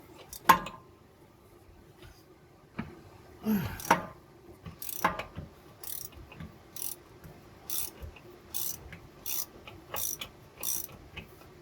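A hand ratchet works a bolt loose underneath a car, giving quick bursts of sharp clicking separated by pauses and a few metallic knocks, close and fairly quiet in a garage, with no talk.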